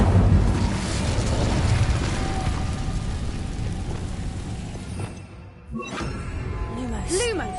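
A fiery blast from the Incendio spell in the Hogwarts Legacy video game roars loudly and steadily for several seconds, then drops away briefly before smaller bursts and swirling effects follow.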